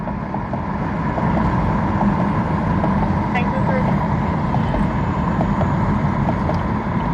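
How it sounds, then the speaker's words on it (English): Car driving on a rough, bumpy road, a steady loud rumble of tire and road noise with a faint rhythmic thumping like hoofbeats, continuous throughout with voices faintly under it. "why does your car sound like you're riding a horse?"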